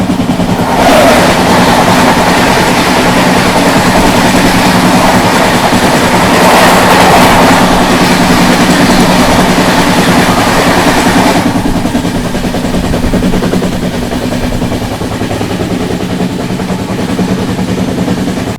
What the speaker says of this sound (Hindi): अभी सामने से आ रही है न्यू टिनसुकिया अमृतसर एक्सप्रेस